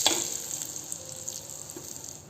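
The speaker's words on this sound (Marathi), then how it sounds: "कोल्हापुरी कांदा लसूण मसाला आणि अर्धा चमचा काश्मीरी लाल मिरची पावडर. आता हे तेलामध्ये छान परतून घ्यायचं आहे." Kolhapuri onion-garlic masala and Kashmiri red chili powder sautéing in hot oil for misal, a soft steady sizzle and crackle, close and fairly quiet, with a slightly louder burst at the start.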